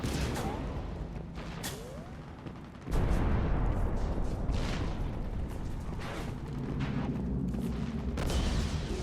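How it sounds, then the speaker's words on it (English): Distant, scattered gunfire cracks and low booms rumble through a noisy battlefield ambience in the video game Mass Effect 3, irregular shots spread across the whole stretch. "I'm just hearing stray gunfire."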